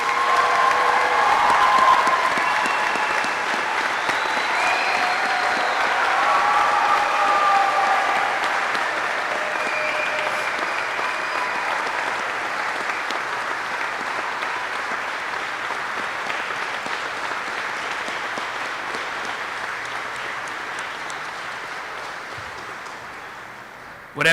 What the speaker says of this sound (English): Please join me in a round of applause for the Army's newest aviation warfighters.